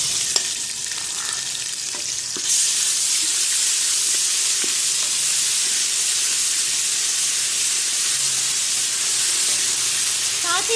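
Onions browned in a pan with ginger garlic paste just added, for a beef haleem, fry with a loud, steady hiss that jumps up sharply a couple of seconds in, with a few faint clinks of stirring and no talking.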